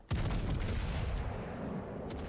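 A warship's rear turrets fire a heavy salvo in World of Warships: Legends: one loud, deep boom at the start that rolls away into a long rumbling tail.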